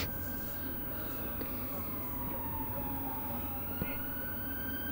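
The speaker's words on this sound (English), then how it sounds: "Some emergency vehicles going past the... It's an ambulance, just seen it." An ambulance siren sweeps past outside a cricket ground during a county match, its wailing tone faint and distant as it slowly rises and falls over a low background rumble.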